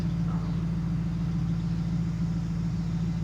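A Ford Panther-platform car with a 5-speed manual swap idles steadily, a smooth, even, low engine hum with exhaust rumble that holds constant throughout with no speech.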